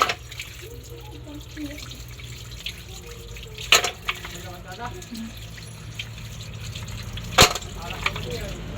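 Bayuko snails being washed in water for cooking, soft sloshing and trickling with a couple of sharp clattering knocks of shells, quiet and close, with occasional speech.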